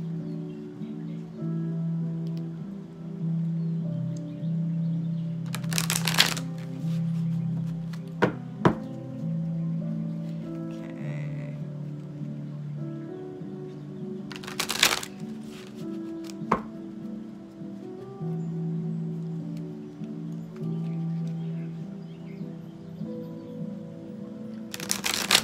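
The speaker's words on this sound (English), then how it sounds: "because the cards are not as thick, it's much easier to shuffle" A thin, flexible oracle card deck is shuffled by hand, with a few short bursts of riffling and soft tapping and thumping of the cards between long quiet stretches.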